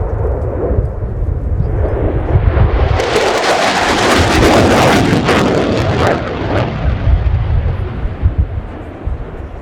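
A Belgian Air Component F-16AM Fighting Falcon makes a fast pass at an air show display, a loud jet roar swelling to a harsh, crackling peak overhead and then fading away.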